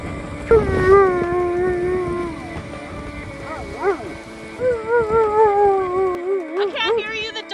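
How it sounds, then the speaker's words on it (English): A dog howls aboard a sailboat cruising through the Outer Banks, rising and wavering howls repeating over boat and water noise, fairly close. "The dog's friggin' howling."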